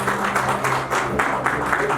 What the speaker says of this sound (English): can I have a louder round of applause,